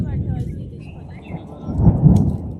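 Heavy unseasonal village downpour with a thunderstorm: deep rolling thunder rumbles swelling toward the end over a soft hiss of rain, close and full.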